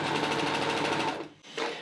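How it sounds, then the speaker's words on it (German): An overlock sewing machine stitches into empty air without fabric, a loud steady whirring drone that cuts off briefly and starts up again. "Um diese zu erstellen, nähe ich mit der Nähmaschine einmal ins Leere."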